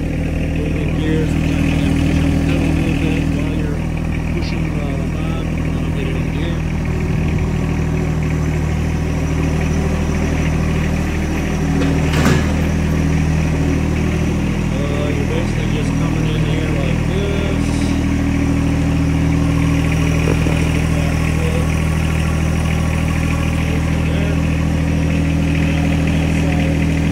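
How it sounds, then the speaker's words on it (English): Tractor engine idling steadily and close by after start-up, a constant low rumble throughout with a brief clank partway through and talk over it. "So I just started the tractor,"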